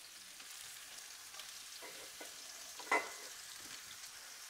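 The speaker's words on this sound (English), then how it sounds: "you can hear the prawns beginning to sizzle away" Prawns sizzle faintly and steadily in a hot pan, with a soft stirring scrape and one brief clink partway through.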